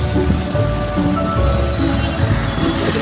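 Steady rain hisses on surfaces in Bengaluru, a continuous wash of noise with low rumbling traffic underneath.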